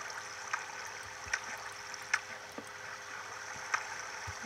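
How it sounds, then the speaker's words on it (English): Large waterfall in the video game Minecraft, a steady rushing water wash with sharp clicky game sounds popping through now and then. "Holy crud, that is a big waterfall."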